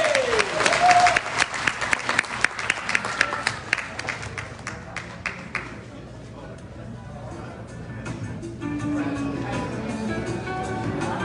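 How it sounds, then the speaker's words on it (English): Audience applause at a community association event, loud and sustained clapping from a crowd that gradually tapers off, with a brief voice heard over it. "Let's have another round of applause, please."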